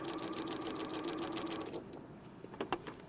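A sewing machine stitches a seam and then runs a short back tack, steady rapid mechanical chatter for most of the clip before trailing off into a few light handling clicks.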